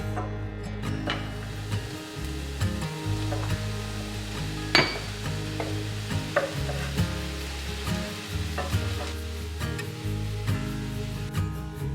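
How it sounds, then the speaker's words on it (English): Mushrooms and onions frying in canola oil in a frying pan over medium heat, a steady close sizzle punctuated by scraping stirs and light clinks of a utensil against the pan, with no talking. "adding some canola oil to a frying pan, and I will fry the mushrooms on a medium heat"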